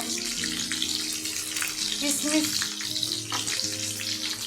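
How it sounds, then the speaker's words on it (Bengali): Steady hot-oil sizzling of cashews frying in a pan, close and continuous, with faint clinks. "কাজুটাও দিয়ে দিলাম এক সাইডে, ওটা ভাজা হয়ে যাক"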